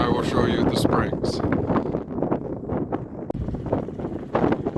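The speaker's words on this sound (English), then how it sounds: "I know it's still windy up here, it'll get better" Wind gusting across the desert near the entrance to Red Rock Canyon outside Las Vegas, a steady loud buffeting roar against the microphone with rising and falling gusts throughout, and a person talking underneath.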